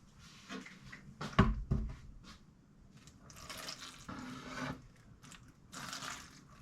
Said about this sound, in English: I'm just going to add my water.